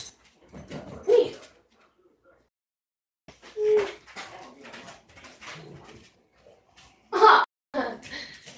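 A dog whimpers in short, high squeaky bursts, three of them spread out across the stretch, fairly close, with a person talking to it between the cries.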